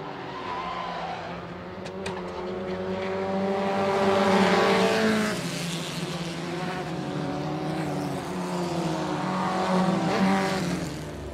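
Race cars at speed on a circuit near Turn 11, engines droning and sweeping through gear changes with tire noise, loud and close with rising and falling pitch as they pass, no voices.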